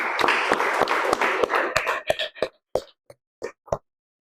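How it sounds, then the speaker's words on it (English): A small audience at a Toastmasters club meeting claps in a steady burst that quickly thins out into a handful of scattered, separate claps before falling silent. "Please give a big round of applause"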